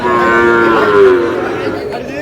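A Sahiwal bull calf moos once at a cattle market in Barishal, a loud, long, close bellow that slowly fades.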